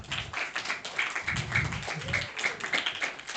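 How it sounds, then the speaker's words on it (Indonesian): Audience clapping for schoolchildren at a Pondok Ramadan gathering at SDN 4 Penganjuran elementary school in Banyuwangi, uneven claps over a couple of seconds with some low rumble and faint voices mixed in. "tepuk tangan untuk anak-anakku ya"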